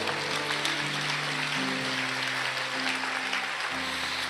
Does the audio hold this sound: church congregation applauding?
yes